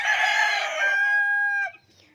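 A rooster crows once, loud and close, its long cock-a-doodle-doo call tapering off after about a second and a half, against an otherwise quiet rural backdrop in the province where many chickens are kept.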